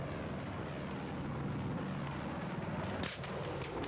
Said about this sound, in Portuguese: Calma que o helicóptero tá chegando aqui.